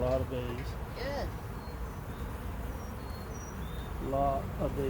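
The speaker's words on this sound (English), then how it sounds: "A lot of bees." Honeybees buzz around an open, crowded beehive during an inspection, a steady droning hum filling the background while people talk over it.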